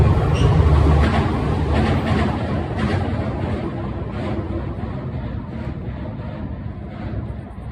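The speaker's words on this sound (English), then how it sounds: "Here comes the train." A train rumbles past steadily with a broad, continuous roar, mixed with gusty wind buffeting the microphone.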